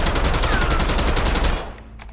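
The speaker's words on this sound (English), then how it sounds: "if you decide to use the AK and want to use it as a longer range build, we'll show the recoil pattern" A sustained full-auto burst from an AK rifle in the Warzone video game, rapid evenly spaced shots, loud and close, ending abruptly after about a second and a half.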